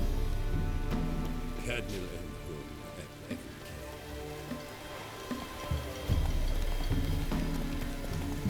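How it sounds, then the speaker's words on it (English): Steady rain falls in The Witcher 3 on a swampy island, a continuous soft hiss of drops with occasional splashes and thuds over low ambience, moderately loud and even throughout. "Looks like rain."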